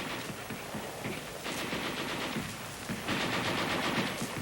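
A World War II US Army heavy machine gun fires in long sustained bursts: dense, rapid, continuous rattling that stays loud throughout, with no pauses or voices.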